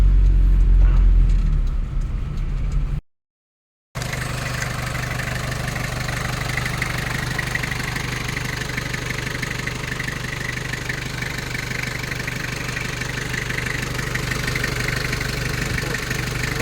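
A car engine idles steadily up close, a low continuous rumble after a brief cutout, with no one speaking.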